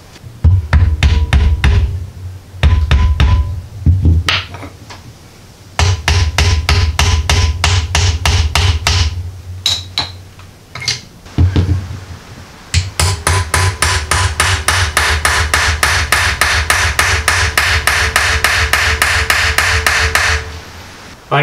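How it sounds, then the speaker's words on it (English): A hammer taps around a stuck Ford 8-inch rear end, working the seized part loose: bursts of sharp metallic blows, close and loud, in quick strings, pausing, then a long steady run of rapid strikes. "I just got to keep tapping all the way around without damaging anything."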